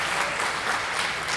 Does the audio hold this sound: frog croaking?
no